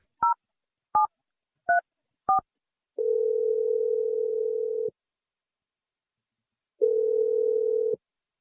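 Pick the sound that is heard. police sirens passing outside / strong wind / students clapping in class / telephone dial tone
telephone dial tone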